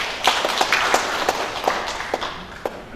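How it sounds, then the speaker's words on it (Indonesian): A small audience at an Indonesian cyber-preacher launch event claps, a short burst of loose, separate hand claps with audible individual hits over a soft room background. "Tepuk tangan."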